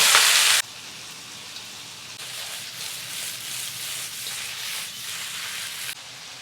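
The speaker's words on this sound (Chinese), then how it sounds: "油热，下入大虾。" Prawns fry in hot oil with a steady crackling sizzle, opening with a loud burst of spatter that settles into a softer, even hiss with gentle swells.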